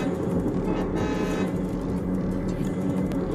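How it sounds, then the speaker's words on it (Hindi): A train horn sounds in the Mumbai Local Train mobile game, a short, moderately loud toot rising out of steady engine and rolling noise. "यहाँ पर एक हॉर्न दे देता हूँ पहले।"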